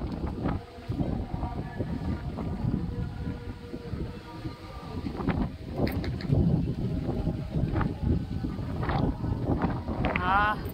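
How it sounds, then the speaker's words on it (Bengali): Strong wind at dawn on a cloudy, rainy morning buffets the microphone in a continuous, loud broadband roar, with brief gusty surges throughout. "হেভি হাওয়া দিচ্ছে"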